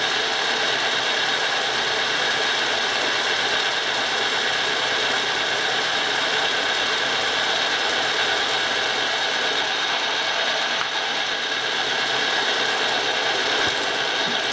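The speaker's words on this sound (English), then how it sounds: "I'm going to just drill a hole in the top and flip it and drill a hole in the bottom" A steady, loud mechanical whir with rough grinding texture runs continuously without pause, a power drill boring a hole through metal close by.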